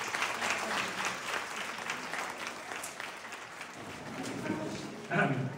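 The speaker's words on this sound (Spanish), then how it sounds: "Un aplauso para ellos." An audience at an institutional school ceremony in Castilla-La Mancha claps in a steady, moderately loud round of applause that eases off, then a few louder claps near the end.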